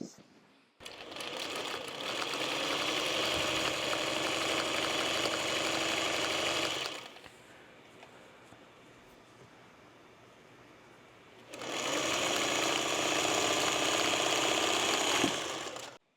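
A sewing machine stitches the last seam of a quilt block in two steady runs, pausing briefly between them; the whirring is close and even.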